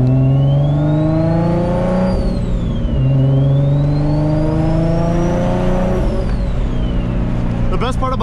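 A turbocharged Infiniti G35 coupe making 883 wheel horsepower revs hard on a dyno, a loud, continuous engine roar that sweeps up and down in pitch. The turbo is fed through equal-length headers into a dual 3-inch exhaust.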